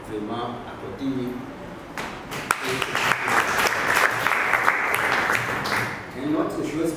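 An audience at a youth leadership training session breaks into applause after a speaker's line, clapping swelling from about two seconds and fading near the end, with talk before and after.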